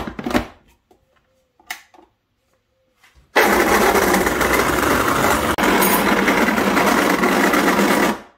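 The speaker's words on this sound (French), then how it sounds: "Alors, allez, on va pouvoir mixer tout ça." A blender whirs loudly and continuously as it mixes mango ice cream, starting abruptly after a few short clicks and knocks, then running steadily with a brief dip midway before cutting off.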